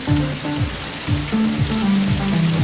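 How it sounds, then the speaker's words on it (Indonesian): Falling rain effect playing in a video game during play mode, a steady hiss of rain on a surface under a looping low tonal melody, with no talk. "jadi ada suara hujan turun dan juga ada efek"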